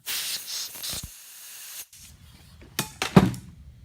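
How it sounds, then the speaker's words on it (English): Carburetor cleaner sprayed from an aerosol can onto a Kawasaki Mule 2510 carburetor during a rebuild: a steady close hiss for nearly two seconds, followed by a few short bursts and clicks. "And carb cleaner."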